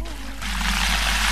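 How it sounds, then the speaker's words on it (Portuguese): Water runs from a tap in a cartoon scene, a steady hissing flow that starts after a short moment and continues at moderate volume under a brief voice. "Já chega, pode fechar a torneira."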